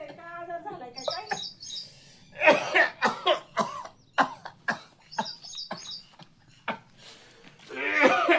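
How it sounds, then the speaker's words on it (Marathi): An old man coughs repeatedly in harsh, close bursts spread across the stretch, with birds chirping faintly in the background and some voices in between. "सारखं खोकत आहे काय आजार झालाय काय काय?"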